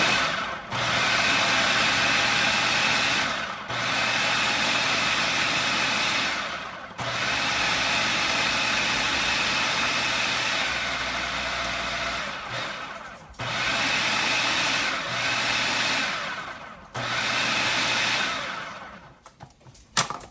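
A food processor pulses in several bursts of a few seconds each, chopping peppers for pepper jelly, with a loud whirring motor broken by brief pauses and no talk.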